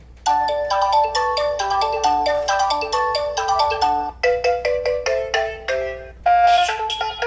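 A melodic ringtone played loudly through the bottom loudspeaker of a Meizu MX5 smartphone, a bright, clear sequence of chiming notes with brief pauses between phrases, close and alone without speech.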